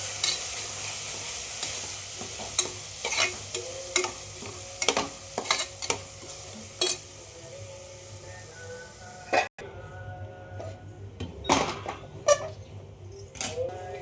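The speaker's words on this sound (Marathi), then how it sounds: "आता हे मसाले सगळे एकजीव करून घ्यायचेत आपल्याला" Spoon stirring Suhana biryani masala spices together in a hot pan, sizzling steadily with repeated scraping clinks and taps of utensil against metal, close and clear.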